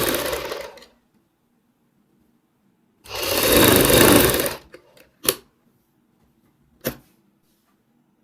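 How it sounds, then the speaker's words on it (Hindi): Sewing machine stitching a double piping neck design on a garment, a close steady whir in two runs of about a second or more, followed by a few sharp isolated clicks and knocks. "इसमें सिलाई लगा लेते हैं निशान के बिल्कुल ऊपर।"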